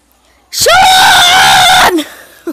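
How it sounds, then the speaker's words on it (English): A loud, piercing scream from a character in a video game, one sustained high cry of about a second and a half that cuts off abruptly, with no talk over it. "Someone's screaming."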